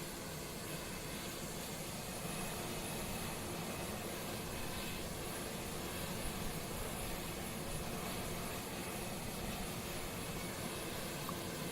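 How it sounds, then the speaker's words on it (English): Jet engines of a Boeing 747-8 in the X-Plane 11 flight simulator spool up as a steady, loud broadband roar and whine that holds throughout with no voices. "we'll just start our engines on our way back"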